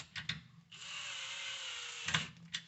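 A power drill tightens screws on the coupler of an older Kenmore 80/70 series washer, giving one sustained whir of about a second and a half with short clicks before and after, fairly faint.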